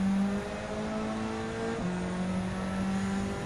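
A race car engine at full throttle in Gran Turismo 7, a loud, steady high-revving drone that holds its pitch, shifts once partway through, then pulls on strongly with no talk.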